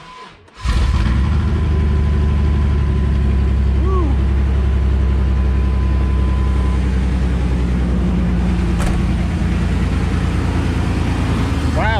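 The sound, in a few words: Chevrolet S10 race truck engine starting and idling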